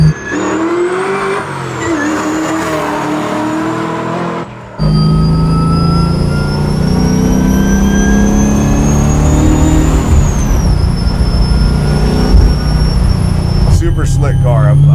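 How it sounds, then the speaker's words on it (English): A supercharged 427 Chevy Chevelle SS restomod rated at 1,000 horsepower drives on the road, its engine note loud and sustained with rising pitch as it pulls, heard from inside the car while people talk over it. "this car feels so good on the road, dude"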